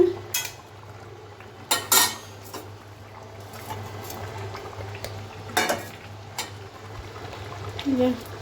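Tomatoes and rohu fish drop into a cooking pan over a low steady boil, with several sharp clatters of utensil against metal, a light scraping stir and a person speaking briefly in the background.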